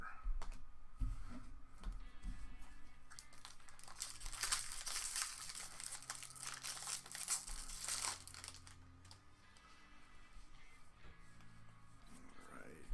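Foil wrappers of Magic: The Gathering Amonkhet booster packs crinkle and tear open in a steady run of close rustling and crumpling, with a person talking underneath.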